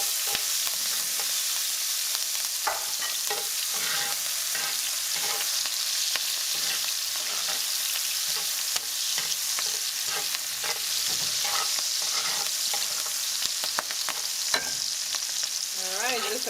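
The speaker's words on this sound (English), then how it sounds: "We're going to add our chilitos to roast them a bit." Small chilies roast and sauté in a hot pan for a Mexican-style shrimp, bacon and chili rice bowl, giving a steady close sizzle broken by scraping stirs and occasional sharp pops, with no talking.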